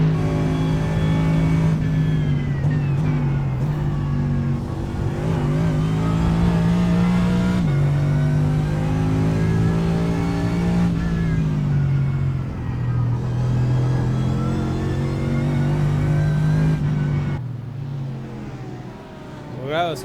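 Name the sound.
race cars passing in a Mercedes SLS GT3 racing video game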